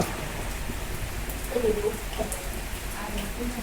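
Steady rain in Dhaka patters in the background, a soft constant hiss with scattered drops and a faint voice now and then.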